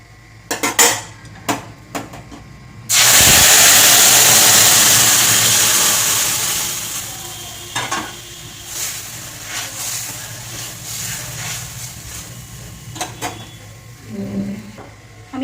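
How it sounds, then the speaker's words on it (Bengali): Lentil dal poured into hot oil tempered with fennel seeds, dried red chilies and bay leaves, bursting into a loud, sustained sizzle that fades slowly over several seconds, framed by clinks of utensils before and after. "আমি এবার ডালটা ফোড়ন দিয়ে দেবো।"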